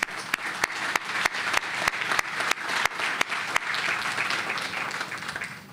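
An audience at a mayoral stadium announcement for DC United claps steadily throughout, a dense sustained applause with a few sharp close hand claps standing out, with no talking over it.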